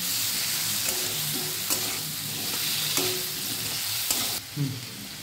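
Pumpkin and potato pieces fry in hot oil in a pan, giving a steady close sizzle with occasional scrape and stir sounds of a utensil, and no talking.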